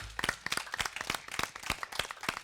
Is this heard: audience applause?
yes